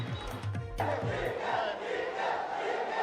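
A large crowd chanting at a political event, a dense roaring mass of voices swelling loudly and continuing without pause, with a short burst of sharper shouts near the start.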